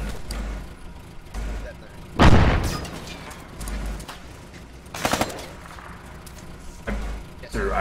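A frag grenade explodes in Arma 3 Antistasi with a heavy, close boom that trails off, followed later by a cluster of sharp gunshot cracks. Voices talk over parts of the clip.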